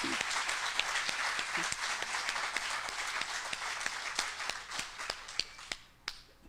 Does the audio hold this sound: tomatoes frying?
no